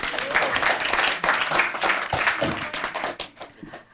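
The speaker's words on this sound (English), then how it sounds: "Let's clap for them." Audience clapping at an English quiz event with the UK embassy in Mali, a dense, steady burst of many hands applauding together close by, easing off slightly at the end.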